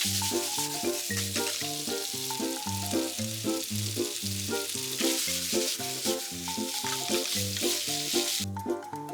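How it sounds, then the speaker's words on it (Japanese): A stir-fry thickened with potato starch slurry sizzles softly in a pan, a faint hiss and some stirring heard beneath prominent background music. "とろみがつくまでしっかり炒めます"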